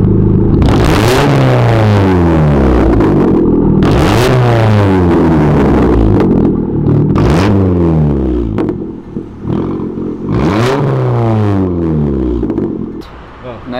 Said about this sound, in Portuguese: Vai dar uma acelerada aí, quando você quiser.